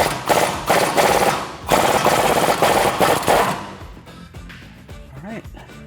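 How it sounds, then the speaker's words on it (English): An impact gun fitted with a swivel socket hammers on an 18mm nut during a suspension job on a 2011-2020 Dodge Challenger R/T, firing several loud, rapid rattling bursts close by before falling quiet, with a voice speaking at the end. "use a swivel socket on my impact gun"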